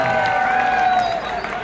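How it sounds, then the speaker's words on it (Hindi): Sustained applause and crowd noise from a school audience at a Babasaheb Ambedkar Jayanti portrait unveiling ceremony, a steady dense wash of clapping at close range with no break across the short span. "एक बार जोरदार तालियों से उनके छाया चित्र के इस अनावरण"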